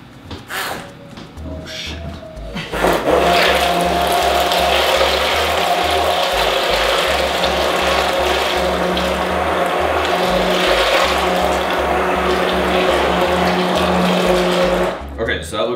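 An immersion blender whirs through popover batter in a bowl: a steady, loud, close drone that kicks in after a few quiet seconds and runs unbroken for about twelve seconds before cutting off.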